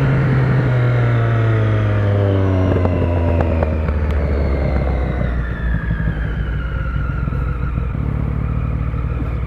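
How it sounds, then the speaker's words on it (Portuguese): A motorcycle engine revs hard and close, the pitch climbing and then winding back down while the rumble continues throughout. "como é gostoso dar uma aceleradinha assim, só pra ver o giro subindo"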